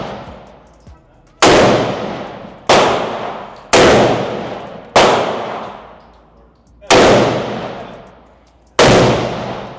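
Loud gunshots from a nearby shooter at an outdoor range, about seven sharp blasts spaced roughly a second or more apart, each decaying with a long echoing tail.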